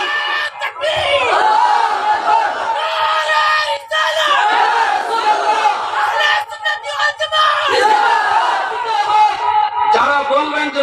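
A large crowd at a Sunni religious gathering in Assam roars out takbir in loud, massed shouts that rise and fall in repeated waves, with brief dips between calls.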